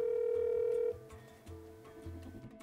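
A telephone call that rings unanswered: a loud steady tone lasts just under a second, then gives way to faint low murmuring and background noise.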